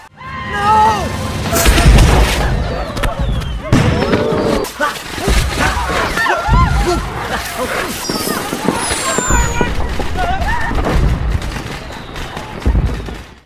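Loud bursts of firecrackers in a burning storehouse popping and cracking in rapid irregular volleys, with sharp bangs and crackling spread throughout, voices faintly mixed in.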